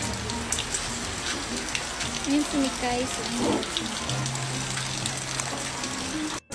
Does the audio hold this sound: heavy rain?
yes